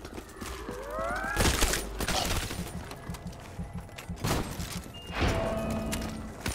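Machine gun fire in Black Ops 3 Zombies cracks out in sharp, loud bursts separated by short gaps, mixed with other game effects and a few tonal chimes.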